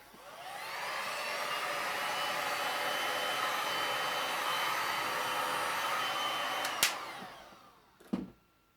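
A heat tool blows hot air over resin poured in a galvanized metal tray, a steady close whooshing hum that ramps up, holds, then cuts off, followed by a couple of brief clicks.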